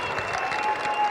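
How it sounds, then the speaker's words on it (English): Brief burst of crowd applause for the Meander Valley Suns after a women's Division 1 grand final, a steady wash of clapping held at even strength. "I think we should give a round of applause to the Meander Valley Suns"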